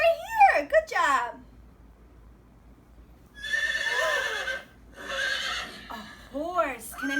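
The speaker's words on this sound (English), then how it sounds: "A horse. Can anybody find a horse?" A horse neighs loudly twice in a row, the whinnies long and shrill with a shaking tail, set between bits of an adult talking to young children about animal sounds.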